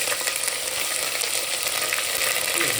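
Onions sizzle and fry steadily in a pan with ginger garlic paste, a dense continuous crackle with occasional stirring scrapes, close and even in level throughout.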